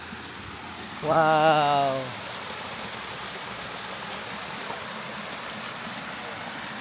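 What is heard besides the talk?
spring water flowing from underground in Yosemite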